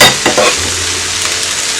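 Rice stirred into vegetables in a frying pan over medium heat, with a steady sizzle and a few scraping stirs near the start, close and continuous with no talking.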